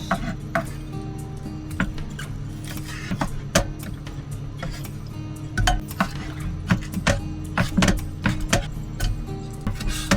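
Knife slicing food on a board at an outdoor campsite, with a run of sharp, irregular cutting taps and knocks set against steady background ambience; no one speaks.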